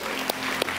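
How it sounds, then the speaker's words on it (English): Church congregation applauding together, a dense wash of many hands clapping at once, loud and continuous for the whole moment. "Y'all give them one more hand clap, guys"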